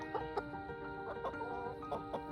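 Barred Rock hens clucking in a farm yard, several soft irregular clucks and short calls over a steady background hum, moderately close.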